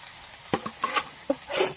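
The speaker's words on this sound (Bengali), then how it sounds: "মশলা দিয়ে ভালো করে ভেজে নিয়েছি।" Chicken pieces fry with ground turmeric, chili, cumin and meat masala in a pan, giving a soft sizzle broken by a few scraping stirs of a spoon against the pan, quiet and close.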